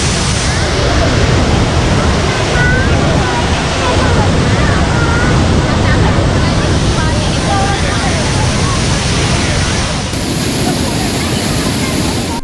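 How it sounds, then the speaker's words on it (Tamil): Heavy water thunders down Thirparappu waterfall in Kanyakumari, a loud, dense, unbroken roar of rushing flow heard up close, with wind buffeting the microphone. "நல்ல டென்ஸாக தண்ணி வந்துட்டுருக்கு. அந்த சவுண்ட்லேயே உங்களுக்கு அது தெரியும்."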